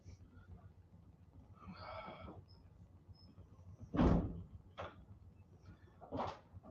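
A door opens or closes in a room during a college football watch party, giving a sharp knock and thud followed by a couple of lighter clicks, with soft household murmurs around it.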